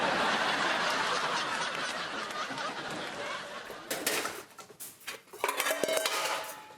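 Dishes, pots and pans are washed in a home kitchen, with loud running water that gives way to close clattering and clinking of utensils, under some voices and light laughter.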